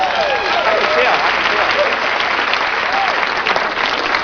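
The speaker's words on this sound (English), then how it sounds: "Give yourselves a round of applause" Sustained applause from a comedy festival audience fills the room, steady and dense from start to finish, with a few voices and whistles mixed into the clapping.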